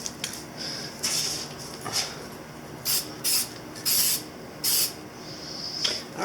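Spray paint is applied to a Yamaha Virago 250 motorcycle's front wheel and forks in short hissing bursts, several quick passes followed by longer sustained sprays, fairly close with quiet gaps between.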